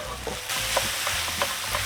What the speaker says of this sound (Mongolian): самгявсалны досон дээрээ 200 г кимчигээ зөөлөн гадаар шаарна